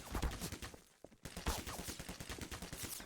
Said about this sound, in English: Combine gets on the turret and starts shooting at us.